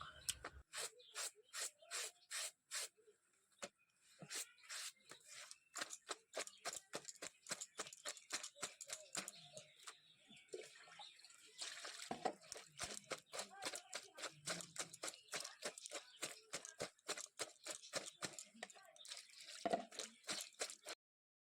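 Clothes soaking and being scrubbed by hand in water, a long run of quick, rhythmic wet slaps and rubbing strokes, close and fairly steady throughout with no talk.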